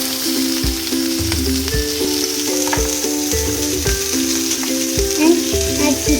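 Onions frying in oil in a kadai while making egg bhurji, a steady close sizzle with soft stirring scrapes, and a background hum running under it throughout.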